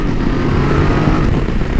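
A BMW F900 GS motorcycle engine pulling hard under acceleration on the road, a loud, continuous low rumbling drone heard close up with wind noise throughout.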